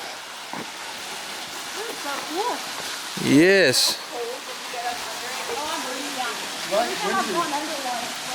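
Cold water pouring from a rock shelter as a hiker shower in Red River Gorge, a steady close splashing hiss running the whole time while several people talk and exclaim over it.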